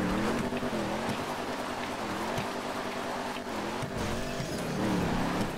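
A car engine strains uphill in GTA V Online, its pitch wavering up and down as the revs rise and fall, loud and continuous with no voices.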